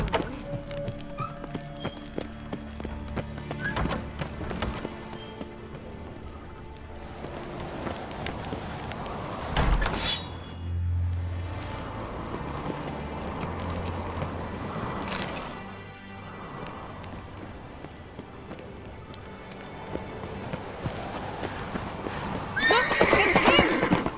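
A horse in The Witcher 3 neighs loudly and whinnies while hooves clip-clop at a gallop, over a steady game soundscape with some voices talking.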